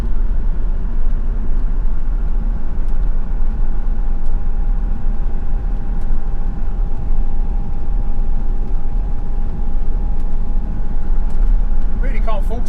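A 2002 Land Rover Defender 90 TD5 diesel drives along a road, its engine a steady low drone with continuous rumble and road noise throughout, heard from inside the cab at a constant, fairly loud level.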